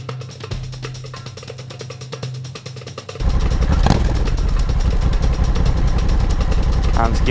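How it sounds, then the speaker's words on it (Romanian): A Honda Africa Twin motorcycle on an offroad climb, starting with a faint engine idle beneath people talking, then a loud close revving surge that holds a strong, rough drone through the rest. "Am schimbat acum motocicleta și încercăm și cu Africa urcarea."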